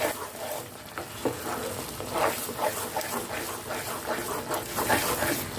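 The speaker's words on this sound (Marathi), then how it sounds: "ते ड्रायफ्रूट्स देखील घालायचे आहे व्यवस्थित मिक्स करून घ्यायचं आहे" Moong dal halwa being stirred in a pan with fried dry fruits mixed in, giving a steady scraping stir with soft sizzling throughout, close and continuous with no talk.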